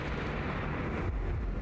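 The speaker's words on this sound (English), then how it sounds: "That's a gunshot." A gunshot in the video game Eclipsium lands as a loud, dense blast that rumbles on and fills the whole moment with heavy low-end noise.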